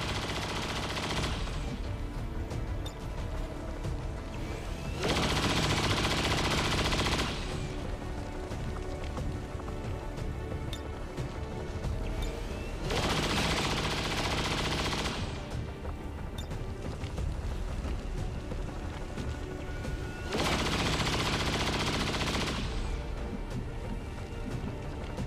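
Gunfire in the video game XCOM 2, rapid automatic bursts repeating in long waves several seconds apart, loud and close, with a constant busy backdrop between volleys.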